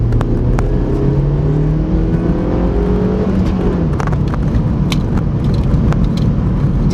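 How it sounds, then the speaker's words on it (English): Suzuki Swift Sport engine revs hard in second gear from inside the car, a loud steady drone that climbs in pitch and then eases as it pulls on, with faint clicks over the hum. "It just keeps revving and revving."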